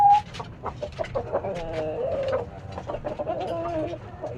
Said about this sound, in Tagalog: gutom na itong mga manok kong ito